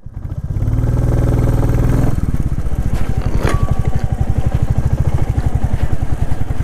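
A motorcycle riding on the rough, slippery Zojila Pass road in Kashmir, its engine loud and close with a steady rapid throbbing and rattling throughout.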